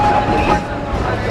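Six Flags Scenic Railway train rumbles steadily at close range with a continuous clattering roar and a faint thin tone, no clear talk over it.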